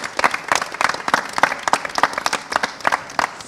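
An audience at a national financial literacy quiz applauds a college quiz team, loud, close, uneven clapping with distinct individual claps from a modest crowd.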